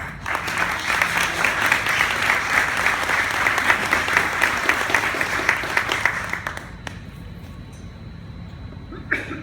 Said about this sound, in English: let's give a big round of applause for Andy